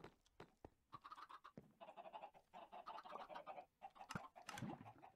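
Chickens clucking on a chicken farm in a block-building video game, a busy cluster of overlapping clucks and short squawks with sharp clicks, fairly faint and continuous.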